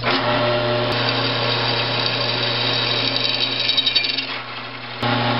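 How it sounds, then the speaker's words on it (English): A power drill whirs steadily at close range for several seconds, its motor pitch wavering slightly under load before briefly easing off near the end. "If you don't have a drill press, a regular drill is absolutely fine for this."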